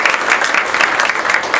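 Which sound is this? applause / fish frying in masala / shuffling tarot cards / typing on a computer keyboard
applause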